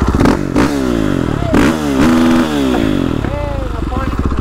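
A motorcycle engine revs loudly and close by in repeated sharp throttle blips, its pitch sweeping up and down, while people talk over it.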